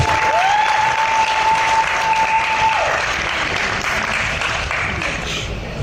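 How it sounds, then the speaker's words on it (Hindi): A crowd at a stage event for a Pakistani film applauds steadily for several seconds, a loud, dense wash of clapping that slowly tapers, with a brief tonal whistle near the start. "तालियां प्लीज"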